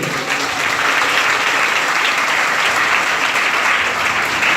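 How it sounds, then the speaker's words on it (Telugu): A church congregation at a Telugu sermon breaks into loud, sustained applause, a dense, even roar of many clapping hands that carries for several seconds without a break. "చప్పట్లు కొట్టండి"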